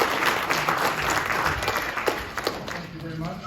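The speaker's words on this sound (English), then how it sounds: "let's give them one more round of applause" Audience applause at a community award ceremony for seventh-grade essays and pioneer awards, continuous clapping at moderate loudness with a few sharper individual claps and faint crowd murmur beneath.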